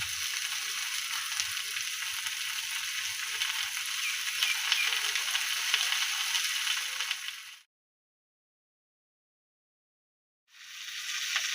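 Leaves tossed into hot oil in a pan give a loud, even hiss of frying that runs steadily, cuts off abruptly into silence, then resumes near the end.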